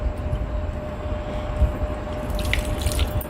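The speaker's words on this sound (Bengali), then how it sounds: "আবার আমি তিন থেকে চারবার ফ্রেশ পানি দিয়ে ধুয়ে নেব" Small desi puti fish are rinsed under fresh running water, a steady close splashing and trickling with occasional drips, and no talking.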